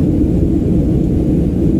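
Inside an airliner cabin during the climb, a steady, loud, low roar of engines and airflow continues without a break.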